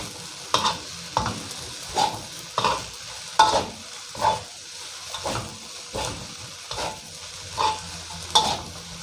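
Metal spatula scraping and tossing glass noodles with cha-om in a hot wok, rhythmic strokes about every half second over a steady sizzle, close up, no talking.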